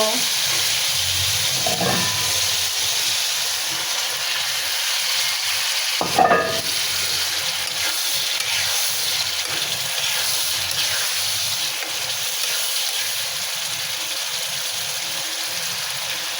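An egg fries in hot oil in a pan with tomato paste, giving a loud, continuous close-up sizzle with one brief clatter partway through and a faint voice now and then.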